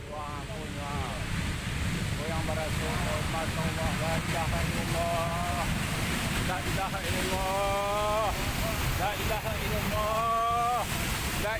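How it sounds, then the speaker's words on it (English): A mudslide washes through a village with a continuous loud roar of rushing debris and water, while people shout and cry out over it throughout. "A local named Yuhendri Yanto kept his camera rolling as one of those mudslides washed through"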